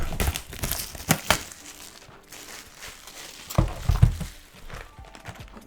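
A One Piece trading card booster pack from the OP11 set is torn open by hand, with loud crinkling foil and ripping bursts near the start and again toward the end, and quieter rustling between.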